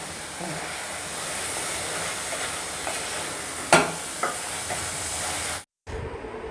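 Jaggery filling for patishapta pitha cooking in a pan, making a low, continuous sizzle with a few sharp scrapes or clinks of stirring, then a brief cut to silence near the end.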